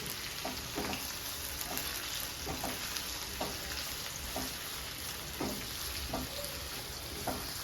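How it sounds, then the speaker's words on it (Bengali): Onions frying in oil in a pan while cooking a chicken dish, a continuous bright sizzle with periodic scraping stirs at a moderate, even level and no talking. "এরপরে আমি পেঁয়াজটাকে এখানে দিয়ে দিচ্ছি। পেঁয়াজটা একটু লাল লাল করে ভাজতে হবে।"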